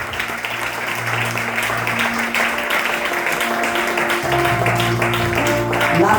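A church congregation applauds, with sustained clapping and crowd noise in a reverberant hall as a voice carries over it.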